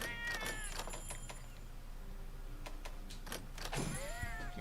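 A video game cat meows several times in quick succession, thin and moderately loud over a steady hum of game background noise, with faint clicks scattered between the calls.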